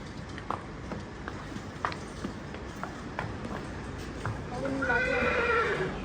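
A mare gives a loud, shrill whinny near the end, after a stretch of people talking and a few scattered knocks on a horse farm.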